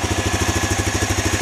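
A 1988 Honda NX-250 motorcycle engine idles steadily, loud and close, with a fast even pulsing throb and no talking.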